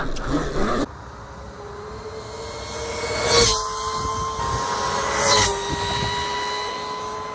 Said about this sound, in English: This is my very first ride on the Electro and Co ETM Mini 5000.